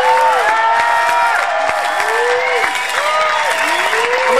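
An audience at a 1995 live hip-hop concert in Seattle applauds and cheers for the band, sustained clapping and crowd noise heard alongside tonal sliding sounds from the stage.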